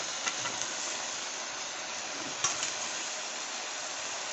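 Red amaranth greens sizzle in a pan with rohu fish curry, a steady close hiss with a few faint stirring knocks and no talking.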